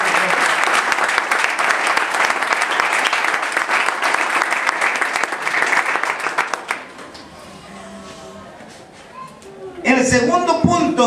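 A church congregation claps loudly and steadily for several seconds, then the applause fades into quiet murmuring before a voice speaks again near the end.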